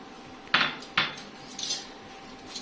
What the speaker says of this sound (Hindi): अंडों को अच्छे से फेंट लेंगे